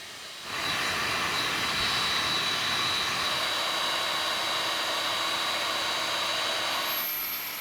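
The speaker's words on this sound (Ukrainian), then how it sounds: "Розплавляємо феном або газовим паяльником" A hair dryer melting plastic switches on and blows with a loud, steady whirring roar, holding constant for several seconds before cutting off.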